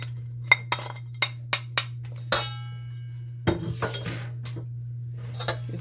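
Spoon clinks against a bowl as cranberries and dates are stirred into homemade fruitcake batter, a string of sharp separate taps and scrapes with a steady low hum beneath, followed by softer mixing rattles.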